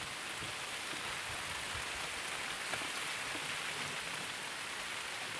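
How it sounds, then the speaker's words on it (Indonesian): Heavy rain pouring down steadily at night, a dense, constant hiss of drops hitting surfaces, close and uniform throughout with no voices. "Hujan teman-teman."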